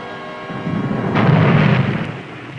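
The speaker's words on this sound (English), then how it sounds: "For hours, the Seawolf endured a merciless depth charge," Depth charges explode against the submarine Seawolf, a deep rumbling boom swelling from a low roar to a heavy, muffled blast that fades within about two seconds, with no voices.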